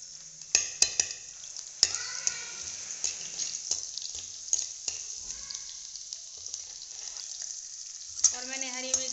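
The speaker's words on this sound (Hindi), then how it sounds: "और अब मैं डालूंगी लहसुन," Garlic dropped into hot oil with cumin spits and crackles in sharp, irregular pops over a soft continuous sizzle, with a few louder bursts as pieces hit the pan.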